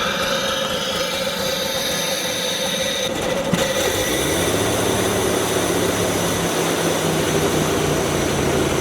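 A car engine with a failing alternator and dead battery runs rough, a loud, continuous droning roar with a steady low hum and no talk over it.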